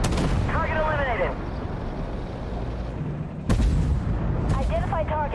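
Tank cannon fire in the video game Armored Warfare: a single heavy, sharp blast partway through, with a rumbling tank engine and bursts of voiced talk around it.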